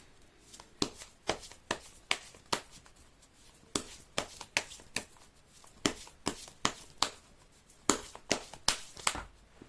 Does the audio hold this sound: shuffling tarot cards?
yes